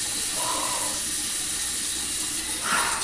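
A tap runs steadily into a sink while skin is washed. The water gives a constant loud hiss and splash throughout, with no voices.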